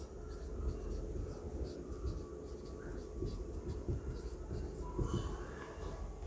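Chalk or marker scratching out a geometry construction on a classroom board during a lecture, with steady scraping strokes over a constant room hum and no talking.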